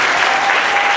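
A crowd at a book dedication ceremony bursts into dense, loud applause that fills the whole moment without a break.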